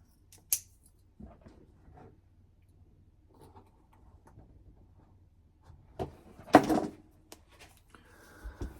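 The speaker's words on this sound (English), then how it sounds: "Now we gotta put us a little cut in there, and then our button stud will slide right in." Scissors cutting a slit into a homemade rifle sling for a button stud: one sharp snip near the start, then quiet handling, then a louder close cluster of cuts and rustling later on.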